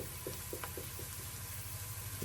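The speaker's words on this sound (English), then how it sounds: "I put the lid in to get it hotter. Now it's sizzling." Vegetarian bolognese sauce sizzles quietly in a lidded pan, a faint steady fry with soft scattered pops and spits at close range, and no voices.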